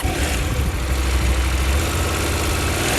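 A motorcycle engine idles steadily in gear while the bike sits at a single loading ramp, a low continuous rumble with no voices over it.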